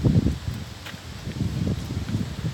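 Wind gusting outdoors at a Toyota Land Cruiser Troopy overland camper build, heard as a low, uneven buffeting rumble across the microphone that rises and falls throughout.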